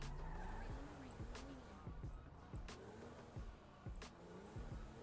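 Cars ramming the player's vehicle in GTA 5 during a first-person drive: a steady engine drone with wavering tire squeals, broken by three or four sharp, loud collision thumps spaced a second or so apart.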